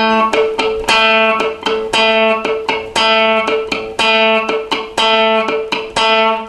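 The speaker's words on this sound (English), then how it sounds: "use the plectrum to pluck down on the note, and then down, and then up on the second click" An electric guitar with a distorted tone plays a riff, picked with a plectrum down, then down-up. Punchy notes are interspersed with short muted dead-note clicks in a repeating, driving rhythm, loud and close.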